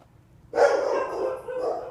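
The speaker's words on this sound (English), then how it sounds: "My dog's barking." A dog barking somewhere nearby during a Roblox Build A Boat For Treasure gaming session, giving a short burst of loud, continuous barking that starts abruptly and runs for over a second with a brief dip partway through.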